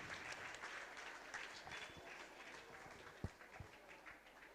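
An audience at a Jain religious sermon and worship gathering applauds in continuous, fairly distant clapping, with a couple of sharper knocks near the end.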